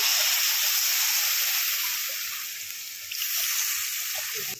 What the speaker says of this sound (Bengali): মশলা কষানো হয়ে গেছে, এবার জল দিয়ে দেবো। জল দিয়ে দিলাম।